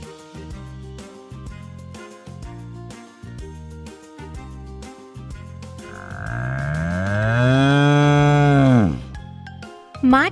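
A cow on a farm gives one long, loud, drawn-out moo that rises and falls. It comes after several seconds of rhythmic background music.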